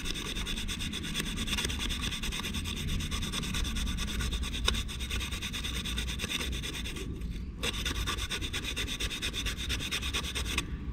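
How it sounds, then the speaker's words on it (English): Sandpaper rubbing steadily against a wooden fishing float for luderick, shaping it by hand with continuous close rasping strokes and a short pause near the end. "Then what you do is you just sand it to the shape you want."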